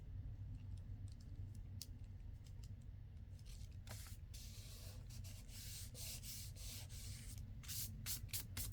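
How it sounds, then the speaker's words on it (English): A glue eraser rubs across old music paper in a steady, quiet scrubbing that runs throughout, with soft gritty strokes growing denser and brighter toward the end. "this little eraser thing here for glue does not work good on this old music paper. No, it tears it right up."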